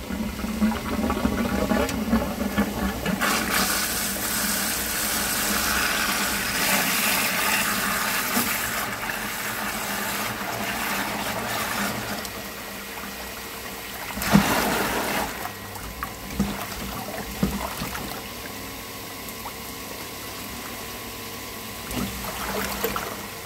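An outdoor flushing pump starts up to desludge an air-to-water heat pump exchanger, giving a steady rushing, gurgling water-and-motor noise with a louder surge and a few knocks midway.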